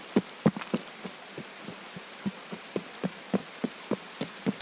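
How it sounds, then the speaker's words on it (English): Rain falling in a video game, heard as a steady scatter of soft, irregular droplet taps over a faint hiss, fairly quiet and with no voices. "Oh, I hate rain in this game."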